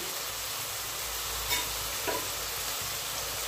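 Cut, washed winter new potatoes go into a pan of lightly fried onions and sizzle steadily, with a couple of soft stirring clinks, close and moderately loud, and no talking.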